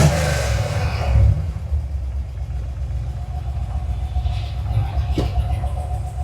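A Chevelle's engine drives off with a deep, steady low rumble close by, briefly surging at the start and then holding a continuous heavy drone with a faint whine above it.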